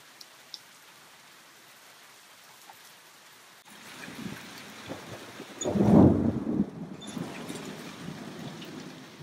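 Rain falls outside after days of off-and-on showers, starting as a faint hiss, then swelling into a louder rush with a strong gust or rumble midway before easing back, with no voices.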